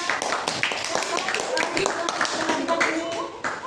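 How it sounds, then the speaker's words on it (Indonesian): Classroom applause for a student group, a burst of scattered hand claps from many people close by, mixed with overlapping children's voices and talk throughout. "Tepuk tangan untuk kelompok."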